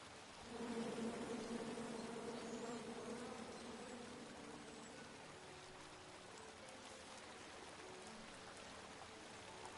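Angry bees buzz steadily in the King's Quest video game, a dense insect drone that swells early and then holds at an even level throughout, with no talk over it.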